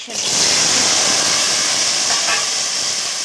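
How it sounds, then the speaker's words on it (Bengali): Potatoes and chunks of elephant foot yam fry in an oiled pan, giving a steady, loud sizzling hiss that runs unbroken from start to finish. "এটাকে আমি ভালো করে একটু বেজে নেব"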